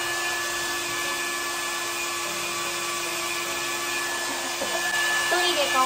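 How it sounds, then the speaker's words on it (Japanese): Negative-ion hair dryer blowing while drying hair, a steady, loud whooshing hum with a constant motor whine that runs unbroken throughout, slightly changing near the end. "なんかこのドライヤーはマイナスイオンが出てくるらしい。"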